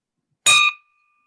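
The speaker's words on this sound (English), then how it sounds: "Ring the bell for Women's Worth." A single bell strike rung at a Rotary club thank-you for Liberty House's Women's Worth event: one clear, bright ding with a long ringing tail that fades out alone, with no voices.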